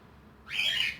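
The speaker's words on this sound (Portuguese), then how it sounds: "Eu comecei a gravar, passarinho chama." A small bird's call rises suddenly halfway through, a bright sustained chirp near the listener that dominates a quiet background.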